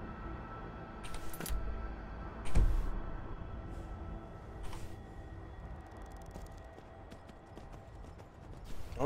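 A horse's hooves clip-clop in Skyrim, a steady rhythmic clopping under game ambience with a few louder thumps, close and moderately loud with no talking.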